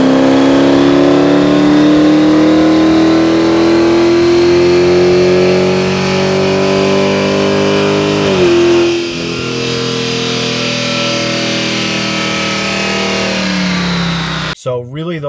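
A car engine fitted with Dynatech long tube headers and a MagnaFlow catback exhaust revs steadily upward in a loud, sustained drone, dips briefly, then holds a rumbling tone before cutting off sharply.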